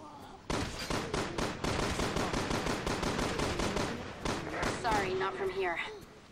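Rapid pistol gunfire in the Resident Evil 6 video game with dual-wielded pistols, heard as a fast, loud string of sharp shots over about four seconds, mixed with game sounds and with voices talking over it.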